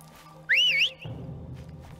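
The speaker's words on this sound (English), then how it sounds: "That is one hell of a whistle." A loud, piercing whistle from Horizon Zero Dawn rises and wavers in pitch for about half a second before cutting off, followed by quieter low rustling game ambience; no one speaks.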